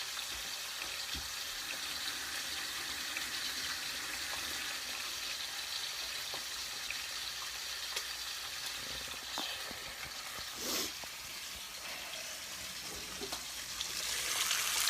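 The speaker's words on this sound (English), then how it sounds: "I'll wash my hands real quick." A sink faucet runs steadily while hands are washed beneath it in a kitchen where bacon is frying, a continuous close hiss of water with a few splashy bursts and no talk.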